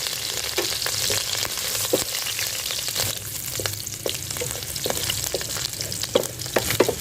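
Steady sizzling of a tadka for masoor dal, spices and sliced green chillies in hot oil, with frequent crackles and pops throughout and occasional stirring, close and fairly loud.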